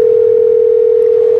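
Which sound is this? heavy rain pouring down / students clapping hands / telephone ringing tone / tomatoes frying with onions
telephone ringing tone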